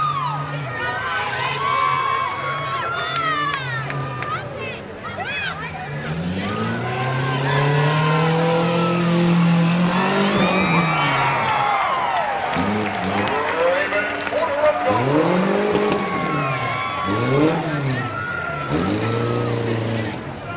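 Tough trucks race laps at a 2015 Tuscarawas County fairground competition, engines revving and surging through the whole stretch beneath a loud, steady crowd roar with shouting, cheering and an announcer's voice over a public address.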